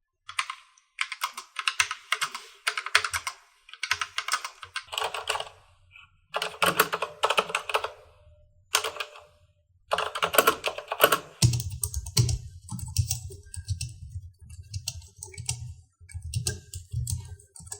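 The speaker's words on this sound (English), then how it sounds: "here's a quick little typing test from each keyboard" Bursts of clattery keyboard typing in separate runs with short pauses between them, close and crisp, the later stretch deeper and thockier in tone.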